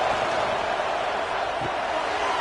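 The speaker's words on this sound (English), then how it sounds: "this crowd is fired up. Listen to this noise here" A stadium crowd roars continuously at a college football game between Alabama and Auburn, a dense, loud wall of voices.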